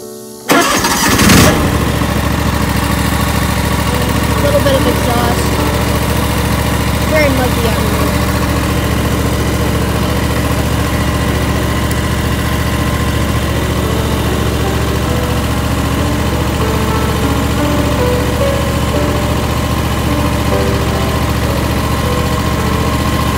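John Deere X500 lawn tractor engine catches at the start, then idles steadily and loudly up close while warming up, a constant drone with a slight underlying throb.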